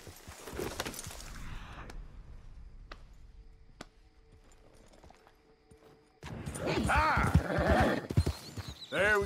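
Horse galloping in Red Dead Redemption 2, hooves clip-clopping with a whinny near the start, a quieter lull, then louder pounding hoofbeats and rider noise building toward the end, with brief speech mixed in.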